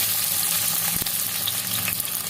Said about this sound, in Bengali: তেলটা গরম হয়ে গিয়েছে এবার পেঁয়াজগুলো দিয়ে দেবো কুচানো পেঁয়াজ